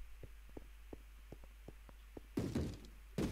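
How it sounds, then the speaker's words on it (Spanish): In Minecraft, a run of soft wooden door thuds knocks about evenly spaced and faint, followed by louder, heavier clunks near the end. "Uy, oigo puertas."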